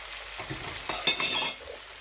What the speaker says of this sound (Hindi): 2 से 3 मिनट तक प्याज को फ्राई किया, प्याज और ज़ीरे को।